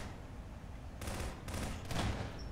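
Gunfire bursts in Garry's Mod Prop Hunt, a few short volleys of rapid shots over a low background, moderately close with brief pauses between bursts.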